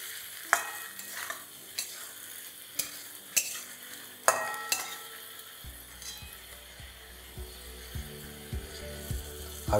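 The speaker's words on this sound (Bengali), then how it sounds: "আর পুরো পেস্টটা দেওয়া হয়ে গেলে এটাকে ভালো করে একবার মিশিয়ে নিন।" Spice paste fries in a pan for a small-fish curry, with sharp metal scrapes from stirring at irregular intervals over a steady sizzle, close and clear, with no speech.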